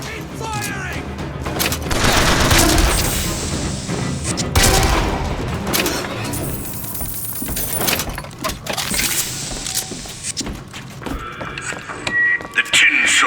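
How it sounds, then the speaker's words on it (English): Rapid gunfire and explosive booms from combat in the video game BioShock Infinite, dense bursts of shots and mechanical clatter with a raised voice shouting over the noise. "Just keep firing!"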